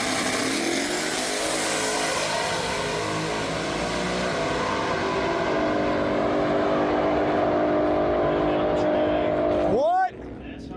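A race car drives at speed, a steady loud engine roar that holds for about ten seconds and shifts pitch near the end, with people talking over it.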